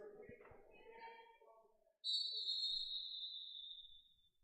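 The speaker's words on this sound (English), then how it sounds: "So we get a whistle as it's got to reset the clock." A referee's whistle at a North Dakota Class B high school wrestling match gives one sustained shrill blast lasting over two seconds, after a short stretch of quieter voices and crowd murmur.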